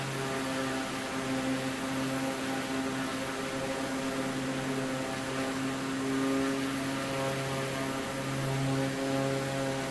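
Steady, continuous drone of a Draco aircraft's engine in Microsoft Flight Simulator 2024, a tonal propeller hum with layered harmonics holding even and moderately loud throughout, no voices.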